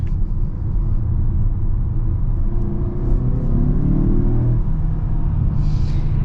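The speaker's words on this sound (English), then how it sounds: "I could definitely hear the turbos in this CX-5" Inside a turbocharged 2022 Mazda CX-5 under acceleration, a low engine rumble builds and swells, with road noise underneath and a faint whir near the end.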